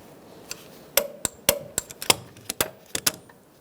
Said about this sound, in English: you're going to want to torque this brace nut to 18 foot-pounds